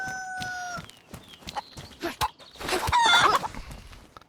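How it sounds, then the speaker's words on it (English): Rooster clucking in the video game DayZ on PS5, a few short calls over a busy, noisy game scene with louder rustling and clatter toward the end. "Oh, look, there's a rooster."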